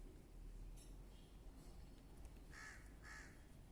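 Outdoor birds call in a garden with potted plants in winter. A few short, harsh, crow-like caws sound at moderate distance over a quiet, steady background.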